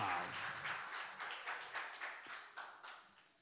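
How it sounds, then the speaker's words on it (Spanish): Congregation applause at a church fasting service, a soft and distant patter of many hands that rolls in uneven waves and fades toward the end. "Fuerte ese aplauso al Señor."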